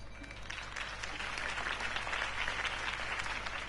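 Applause from a crowd at Harvey Dent's campaign speech in the video game Batman Telltale, a steady dense clapping that holds for the whole short stretch.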